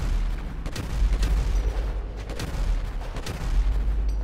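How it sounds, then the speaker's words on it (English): Rocket launches and heavy gunfire during a shootout in Grand Theft Auto 5, deep low booms and scattered bursts of shots under a constant rumbling battle roar, with no voices. "Trevor, you firing rockets?"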